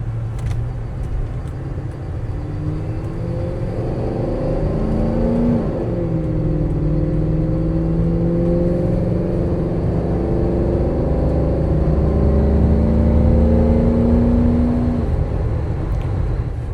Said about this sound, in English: test out the little 5-liter, see what it'll do for us